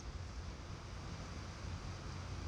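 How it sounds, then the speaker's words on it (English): Steady broadband rushing noise with heavy low rumble, like wind buffeting a microphone outdoors in a field, constant and fairly loud throughout with no speech. "I hope the audio works because it's kind of windy out"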